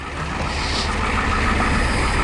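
A 1985 truck with a 6.9 diesel engine runs after a cold start, a steady, dense clatter and rumble heard close up with no talk.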